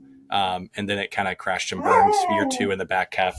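A pet dog howls and yips in a drawn-out, wavering cry indoors during a podcast conversation, loud and close, mixed in with a man's speech throughout.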